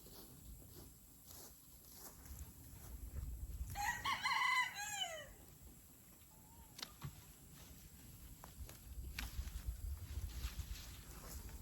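Chickens in a garden coop give a brief burst of loud crowing and clucking in the middle, surrounded by quiet outdoor rustling and light handling noises.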